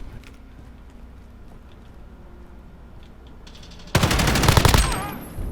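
AUG assault rifle firing in a Call of Duty: Modern Warfare 2v2 match, with a loud burst of rapid automatic shots arriving suddenly after a stretch of quiet game ambience.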